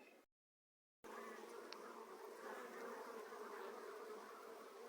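After a brief dropout, a dense, steady hum of Buckfast honeybees buzzing at a queenless hive continues close and loud, with no talking.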